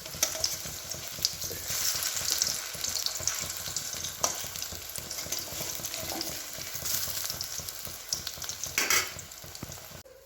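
Bean-stuffed pakoras coated in gram flour batter deep-frying in hot oil, giving a steady, dense sizzle and crackle with occasional louder bubbling bursts, continuous and close with no talking.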